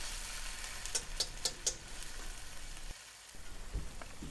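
Minced chili paste is stirred as it fries in a pan, giving a soft, low sizzle broken by a few sharp ticks and scrapes from the utensil.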